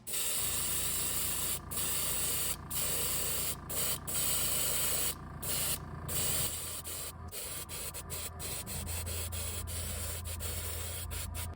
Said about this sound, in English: So now I'm going to take some pearl lime green and spray from an angle to bring out more of the carvings and detail